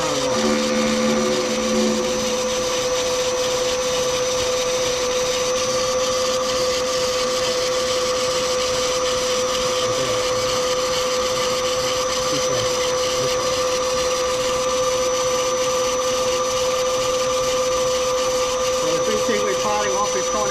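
Metal lathe parting off a workpiece in a home workshop: a steady whirring motor hum with a sustained tonal whine throughout, light scraping cutting texture, and a voice briefly heard near the start.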